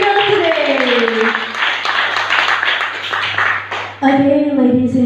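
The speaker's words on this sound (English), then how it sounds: "Give applause for our moderator speaker today." A seminar audience claps for the moderator in a room. The applause is a rough, moderate wash underneath a presenter who keeps talking into a microphone.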